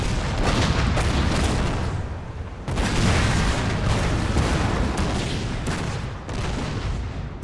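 Heavy booming cannon fire in Napoleon: Total War rolls on continuously, dense and loud, with repeated blasts merging into a thick rumbling barrage.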